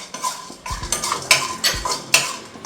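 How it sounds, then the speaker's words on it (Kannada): A spoon scrapes and taps in a pan as cumin, pepper and coriander dry roast on low flame, with a series of close, distinct clinks and stirring scrapes. "ಜೀರಿಗೆ ಹಾಕೊಳ್ಳೋಣ, ಇಲ್ಲಾಂದ್ರೆ ಡ್ರೈ ರೋಸ್ಟ್ ಮಾಡ್ಕೋಬೇಕು"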